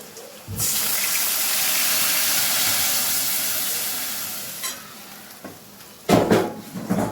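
Mustard paste soaked in water is poured into a pan of frying pabda fish, setting off a loud, sustained sizzle that slowly fades, followed by a few clattering stirs and splashes near the end.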